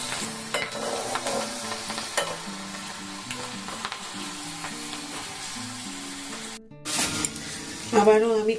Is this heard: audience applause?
no